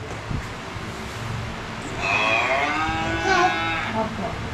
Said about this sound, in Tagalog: Ay, cow.